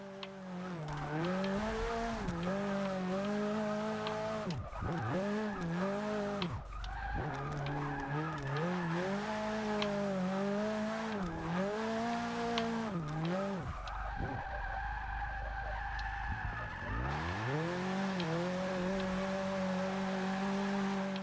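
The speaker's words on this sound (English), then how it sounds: "you just pull the e-brake and you just slide forever" A car drifts in the Forza racing game, engine revving and dipping in long swells while the tires squeal steadily through extended slides, loud and continuous with no voices.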